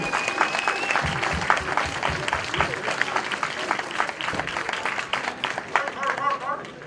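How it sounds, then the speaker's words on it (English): An audience at a homeless dinner event held to celebrate Eid claps steadily for several seconds, a dense, fairly loud applause from a roomful of people with crowd murmur underneath. "Adam and the rest of the team from Who is Hussain all deserve a good round of applause"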